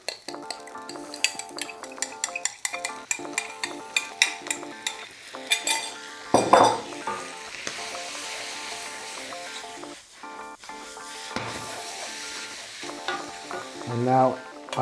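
Pad thai rice noodles are stir-fried with tamarind paste sauce in a hot pan, the spatula scraping and clattering steadily over a continuous loud sizzle, with a burst of hissing as the sauce goes in.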